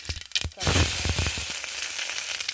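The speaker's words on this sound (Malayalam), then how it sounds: "കടുക് ചേർത്ത് കൊടുക്കാം." Mustard seeds hit hot oil for tempering a kumbalanga parippu dal curry, starting with a few crackles and then bursting into a loud, dense, continuous sizzle close by.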